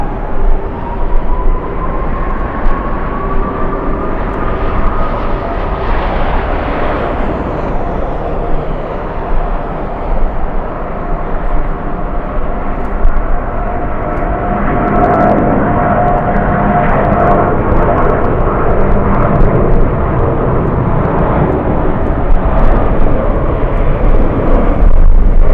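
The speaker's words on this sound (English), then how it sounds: "Trent 800s powering American." An American Airlines jet airliner powered by Rolls-Royce Trent 800 engines at LAX on a day of strong winds, its loud sustained engine roar rising and shifting in pitch as it passes close by, with wind noise throughout.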